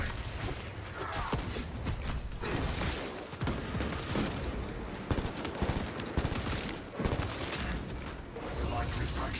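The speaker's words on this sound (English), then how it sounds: "Fragmentation grenade." A fragmentation grenade in Space Marine goes off amid loud, chaotic combat, with rapid gunfire, sharp bursts and clattering mechanical noise packed densely throughout.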